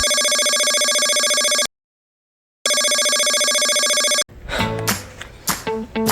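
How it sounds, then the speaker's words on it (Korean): A phone ringtone rings loudly and close in two long, steady bursts separated by a short silence before cutting off, as an early-morning call goes unanswered; a jumble of other tones and noise follows. "전화해서 안 받으면은 여기서 밤새야 됩니다, 지금."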